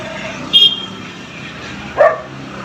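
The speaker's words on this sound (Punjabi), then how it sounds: "ਉਹ ਜਾਂਦਾ ਕੁੱਤਾ ਸਾਡੇ ਨਾਲ" A dog barks twice, short and fairly distant, spaced about a second and a half apart in a rural village outdoors over low road noise.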